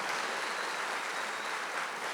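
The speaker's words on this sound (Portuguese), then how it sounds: "Dá um aplauso para Jesus" A church congregation applauds during a worship service, a dense, steady wash of clapping filling the room at an even level with no pauses.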